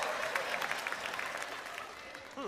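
An audience claps steadily at an Alzheimer's awareness event, a dense, fairly faint wash of many hands that thins toward the end as a voice begins to speak.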